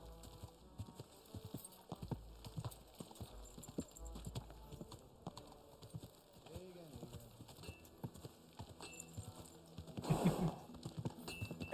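Horse hooves in Kingdom Come Deliverance II, set in medieval Bohemia, clopping in a steady walking rhythm, with occasional snorts and a brief whinny, under intermittent talking.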